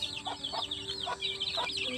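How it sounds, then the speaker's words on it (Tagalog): Several chickens cluck and chirp in quick, overlapping bursts, close by and fairly loud, with a faint steady hum underneath. "Yung mga manok na sa labas."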